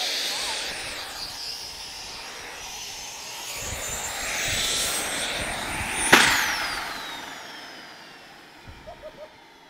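A GT45 turbocharger on a homemade test rig spins with a loud rising whine, then sweeps sharply and winds down, with people talking nearby.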